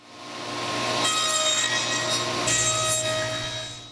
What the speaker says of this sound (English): Then it's back to the table saw to cut all of the tongues.